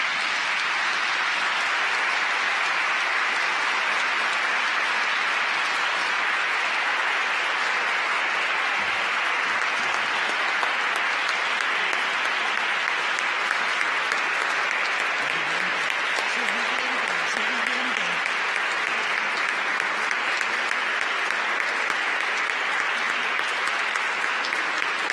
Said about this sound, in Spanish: Esta ovación no significa que nos vamos